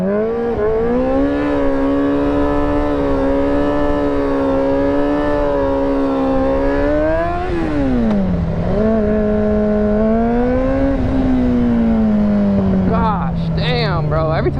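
Yamaha R6 sport bike engine revving hard while riding, a loud, steady buzzing drone that climbs in pitch, dips sharply near the middle, then swells and slowly falls again.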